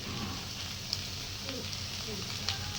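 Faint, steady sizzling of tempering spices and turmeric frying in hot oil, a soft crackling hiss with a few light pops, close by.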